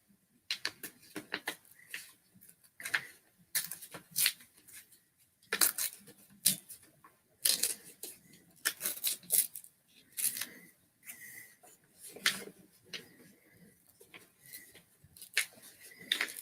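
Box cutter slicing open a cardboard package, a series of sharp, close crackling scrapes and tearing bursts in irregular rhythm over about sixteen seconds, with no talk.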